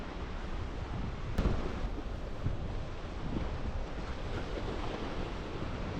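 Sea waves washing in at the mouth where the Vaigai River meets the sea, a steady loud roar of surf with heavy wind buffeting the microphone throughout.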